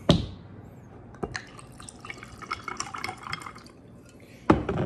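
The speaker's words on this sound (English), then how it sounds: "let's pour this shit up. Let's get our glass. Start off with some of this Malibu." Malibu rum is poured into a glass, with a short splash at the start, then a run of small trickling and dripping sounds, ending in a sharper clink or splash.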